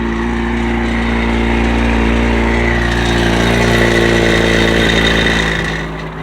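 A 2015 Porsche Panamera 4S with a twin-turbo engine idles just after a cold start, a loud, close, steady rumble with a constant low drone that eases slightly near the end.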